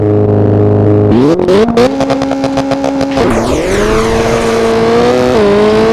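A rally car engine in Richard Burns Rally revs hard, its steady drone climbing through gear changes with stuttering throttle blips, loud and close with no talk.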